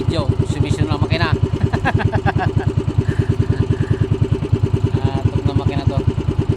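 A motorcycle engine with a suspected carburetor or CDI problem runs at idle nearby, a loud, steady, rapid chugging pulse throughout, with someone talking briefly over it.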